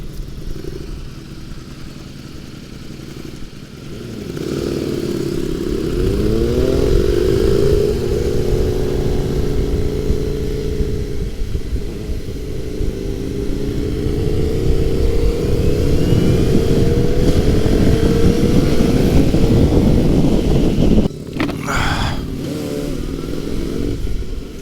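Aprilia RSV4, Kawasaki ZX6R and Honda Fireblade sport motorcycles rev loudly up close, the engines climbing and falling in pitch in a sustained roar that starts after a quieter idle and cuts off briefly near the end.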